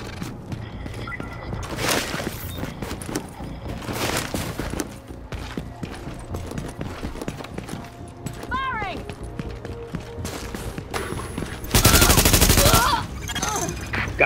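Video game gunfire from The Division rattles in bursts throughout a busy combat mix, with a loud sustained volley near the end and some game chatter underneath.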